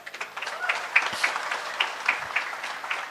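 A crowd of listeners claps at a lively religious talk, uneven rhythmic hand clapping with scattered louder claps, moderately near and mixed with faint voices.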